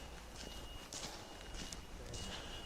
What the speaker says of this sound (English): There's some horses running around there.